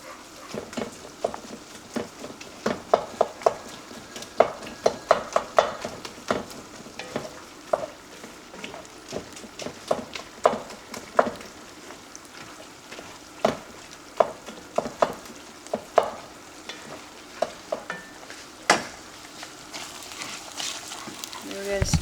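Rice frying in oil sizzles softly while a spoon stirs and scrapes the pan in repeated sharp clicks and knocks over about twenty seconds, with a voice talking over the cooking at times.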